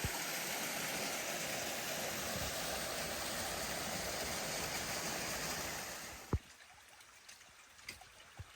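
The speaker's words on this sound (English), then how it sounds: "We gotta follow this waterfall pretty much to the top." A mountain waterfall stream beside a hiking trail rushes in a steady, dense roar that fades out abruptly, leaving quiet with a few faint knocks.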